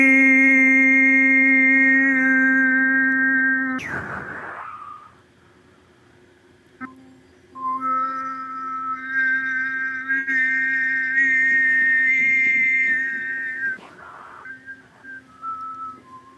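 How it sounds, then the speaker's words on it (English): Overtone singing by a single voice: a sustained sung note with a bright, whistle-like overtone melody floating above the fundamental, broken by a breath around the middle and resumed, ending with another breath. "if I want people to hear the overtones in my voice, I have to sing the note differently"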